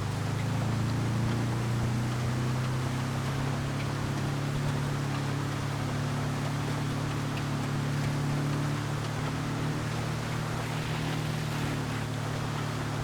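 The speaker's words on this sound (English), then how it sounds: "Just listen to that engine" A steady, droning Volkswagen bus engine hum in the video game GTA 5, with a low, constant pitch that rises slightly early on, backed by broad noisy rumble and no talking.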